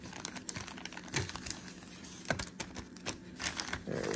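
Trading cards from an NBA Prizm blaster box are shuffled and riffled by hand in a dense run of crisp, papery flicks and crinkles, close and moderately quiet, with no voices.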